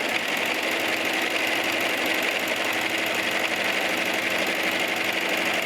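A sewing machine stitches stretch legging fabric with contrasting thread. It gives a fast, even, continuous whirring drone, close and steady for the whole stretch, with no pauses or voices.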